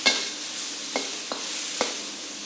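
Shrimp and broccoli stir-fry in a hot wok with a steady sizzle, punctuated by a few sharp scrapes and clinks of the spatula stirring, close and alone.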